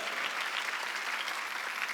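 A church congregation at a Wednesday worship service claps steadily together, making a brief, even wash of applause with no break.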